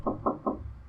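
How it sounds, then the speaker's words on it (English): Three evenly spaced knocks on a door, close and fairly loud, heard alone over a low steady hum. "Finally, a knock on the door."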